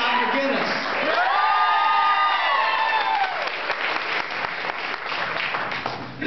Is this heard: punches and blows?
no